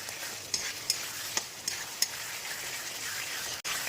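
Onion and spice mix sautéing in hot oil for a vegetarian fuluri curry, a steady close sizzle broken by several sharp scrapes and taps of a spoon stirring the pan, with no voices.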